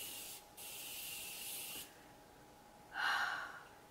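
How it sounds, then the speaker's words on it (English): Several short hissing bursts of a fine mist of makeup setting spray, close by, separated by brief pauses, with a louder final burst. "It's like an even spray."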